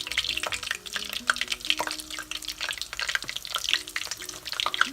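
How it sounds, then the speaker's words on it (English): Lamb spring rolls deep frying in hot oil, a steady close crackling sizzle with dense popping bursts throughout, no voices. "I'm going to start frying them in deep oil"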